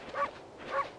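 Short synthesized dog barks from the Okami HD video game, two distinct yips spaced about half a second apart, moderately loud against a faint background with no talking.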